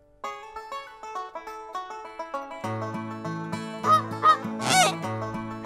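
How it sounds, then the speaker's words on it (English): A goose honks three times in quick succession over bouncy children's music on a farm-animal counting track. "Hello, noisy goose."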